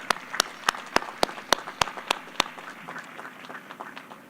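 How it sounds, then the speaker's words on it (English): At a college commencement ceremony for health sciences, STEM and adult basic education, a few sharp, evenly spaced claps ring out before softer scattered applause from the crowd fades at a distance. "So let's give them all a round of applause."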